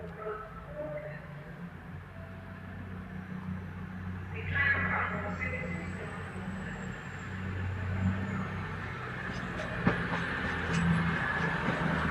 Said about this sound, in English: now departing is the 11:26 Lumo service from Preston to London Euston